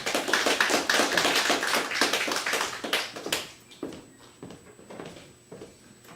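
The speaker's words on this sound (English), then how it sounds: "Please give a round of applause to Susan Hayden." An audience at a poetry anthology celebration in Venice claps for poet Susan Hayden, a modest, fairly close round of individual claps that thins out after three seconds into a few scattered taps.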